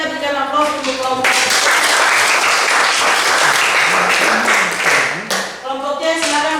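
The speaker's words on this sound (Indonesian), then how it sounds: "kita berikan aplaus untuk kelompok" A classroom of students claps loudly and continuously for a student group, dense applause that swells and fades after a few seconds, bracketed by talk.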